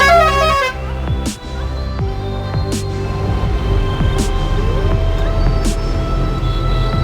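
A 3718 truck's horn honks repeatedly over the steady rumble of its running engine, with a few brief sharp bursts at regular intervals.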